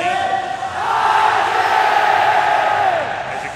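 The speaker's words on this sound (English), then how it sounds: "as you can hear by the crowd, IG are the champions." A large arena crowd at the DAC 2017 grand final of an esports event roars and cheers loudly, a sustained swell of whoops and yells.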